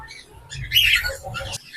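A cockatiel chick gives short, harsh squawks up close, a rapid run of scratchy calls lasting under two seconds.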